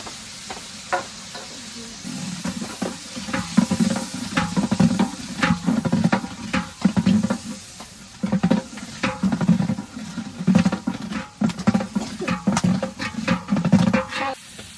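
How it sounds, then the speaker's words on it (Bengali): Ready-mix biryani spice masala with cumin powder, salt and green chili paste being stirred and fried in a pan at an outdoor village picnic, giving a steady close sizzle broken by repeated scraping stirs. "দিয়ে দিলাম রেডি মিক্স বিরিয়ানির মশলা মশলাটারে ভালো করে কষিয়ে নিই"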